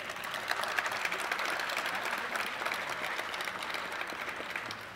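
Steady, even applause fills an auditorium at a welcome reception as the audience claps for volunteers and staff, a dense continuous patter of many hands held at a constant level throughout.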